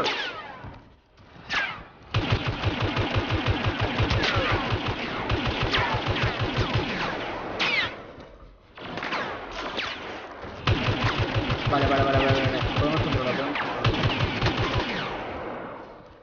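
Rapid automatic blaster fire in the video game Star Wars Battlefront, in long dense bursts of closely spaced shots broken by brief pauses; loud, sustained and fairly near, with no talk over it.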